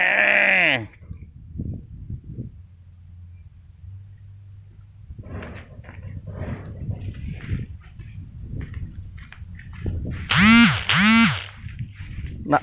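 A sheep bleats loudly at the start, then two more sharp bleats come near the end, with quieter rustling and scattered background noise in between.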